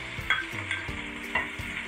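Tomatoes with mint and coriander leaves sauté in a pan for a chicken biryani, with a soft sizzle under repeated scraping and stirring strokes of a spoon at close range. No one speaks.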